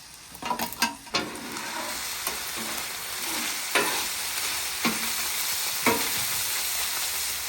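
Ground beef frying on a flat-top griddle, a steady broad sizzle with repeated scraping strokes of a spatula stirring and chopping the meat, close and fairly loud, no speech.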